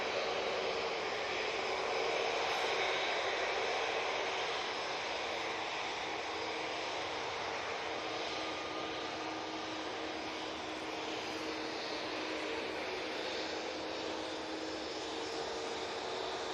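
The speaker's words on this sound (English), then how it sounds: "Easyjet lined up, ready to go." An EasyJet jet airliner lined up on the runway at Manchester Airport sends out a continuous broad engine roar, heard at a moderate distance and steady throughout.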